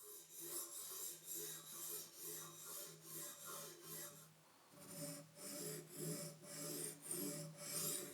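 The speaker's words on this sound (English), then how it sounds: "And now I can sharpen only with a slight thrust." Blade edge drawn across a sharpening stone on a KMFS Vantaedge sharpener, rhythmic rasping strokes repeating about twice a second, close and fairly quiet, with a short pause midway before the strokes resume.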